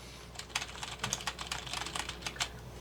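Rapid typing on a small mechanical gaming keyboard with tactile switches, a dense, steady patter of close keystroke clicks with no talking.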